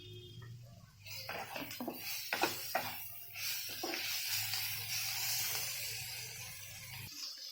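Chopped tomatoes go into hot oil with softened, turmeric-coated ingredients for chhana kalia, bursting into a sharp sizzle with a few crackling pops, then settling into a steady hiss that cuts off abruptly.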